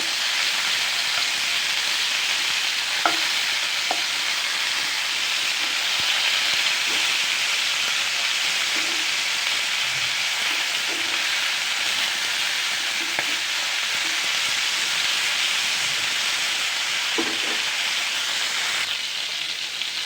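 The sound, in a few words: food frying lightly in a pan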